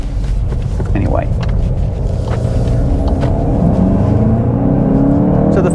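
A 2022 VW GTI engine accelerating on the road, a steady loud drone with harmonics that climb in pitch as the revs build over several seconds.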